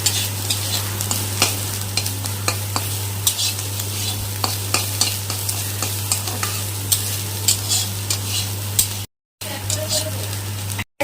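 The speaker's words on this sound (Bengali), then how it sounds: "এবার ভালো করে নাড়াচাড়া করে এটাকে ভেজে নিতে হবে" Spinach with bori lentil dumplings is stirred and fried in a pan: a dense, crackling sizzle with frequent spatula scrapes and clicks over a steady low hum, briefly cutting out near the end.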